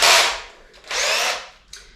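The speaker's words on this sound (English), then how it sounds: "We'll do some pre-drilling and we'll get those started" A power drill pre-drills holes in a Hobie Passport kayak, two loud whirring bursts close by, with a short third burst starting at the end.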